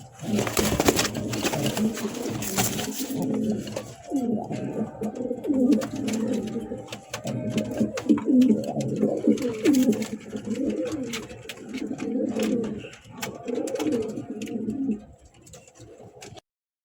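King and Lahori pigeons coo in repeated low, throaty rolls from close by, several overlapping calls running steadily throughout with no talk.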